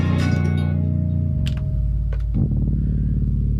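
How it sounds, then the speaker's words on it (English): A bass line heavily distorted by a Big Crusher effect on an MPC, thick gritty low-end tones pulsing steadily with brief percussive ticks layered on top. "check out this distortion on this bass"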